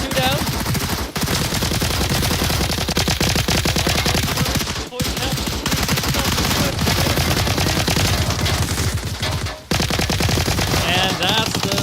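Dense, continuous automatic gunfire in a competitive team shooter match, rapid overlapping bursts filling the whole stretch with only brief gaps, loud and close.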